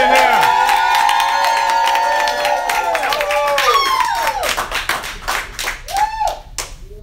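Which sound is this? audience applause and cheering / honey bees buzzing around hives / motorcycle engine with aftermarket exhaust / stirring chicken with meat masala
audience applause and cheering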